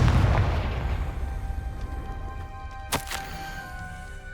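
A Confringo blasting curse exploding in the game Hogwarts Legacy: a low rumbling opening fades, then one sharp, bright blast cracks out near the end.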